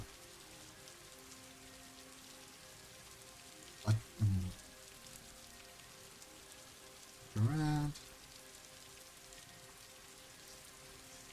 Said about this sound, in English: We'll just stand in the rain for 12 hours.